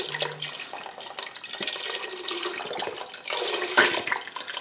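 Mushroom and vegetable broth pours into a pot in a continuous close splashing stream, alone without talk.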